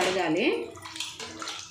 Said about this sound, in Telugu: నేనైతే మటన్ కర్రీ చేస్తున్నా. ఇక వాటర్లో అయితే కడుగుతున్నా